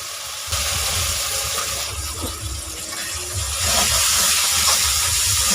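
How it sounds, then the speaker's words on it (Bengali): Rinse water from a bowl poured into a hot pan of egg korma with cashew paste, a steady sizzling hiss rising and holding close and fairly loud, with a brief splash at the start. "বাটিটা ধুয়ে জলটা এর মধ্যে দিয়ে দিলাম।"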